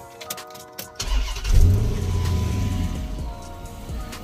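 A Dodge Magnum with a 5.7 engine cranks briefly and fires up, then settles into a steady, rumbling idle close by.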